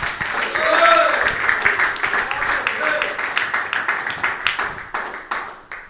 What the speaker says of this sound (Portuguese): Palmas bem alegres para Jesus Cristo.